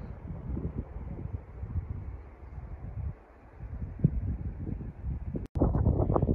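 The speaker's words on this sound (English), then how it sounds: "It's a bit breezy up here" Wind gusting across the top of Grassy Pass in the Rawah Wilderness, a steady low buffeting rumble against the microphone that dips briefly, then a sharp knock and stronger gusts near the end.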